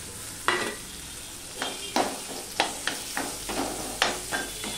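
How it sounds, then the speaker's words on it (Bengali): Boiled potatoes are mashed with a ladle in a frying pan, the soft background sizzle punctuated by about eight sharp scrapes and knocks of the ladle against the pan at an uneven pace. "হাতার সাহায্যে আমি আলুগুলো সব ম্যাশ করে নিয়েছি"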